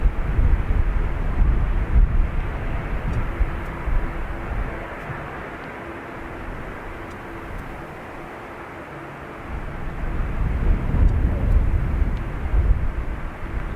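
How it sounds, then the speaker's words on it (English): Ryanair jet departing Dublin Airport for Fuerteventura, a broad roaring rumble with wind buffeting the microphone, loud at first, easing through the middle, then swelling again toward the end. "So this is our Ryanair off to Fuerteventura, Canary Islands"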